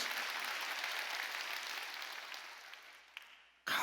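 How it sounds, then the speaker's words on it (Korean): Applause from a church congregation during a Sunday Thanksgiving worship service, a dense steady wash of many hands clapping that gradually fades and cuts off abruptly near the end. "누가 언제 박수 치랬어?"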